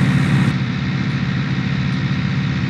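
A tractor engine idles in Farming Simulator 19, a steady, loud, low rumble that holds constant throughout with no voices over it.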